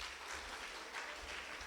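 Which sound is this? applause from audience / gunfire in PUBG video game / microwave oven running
applause from audience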